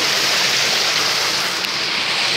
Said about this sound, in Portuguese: Cachoeirinha bonita.